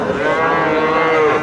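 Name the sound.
calf mooing at cattle market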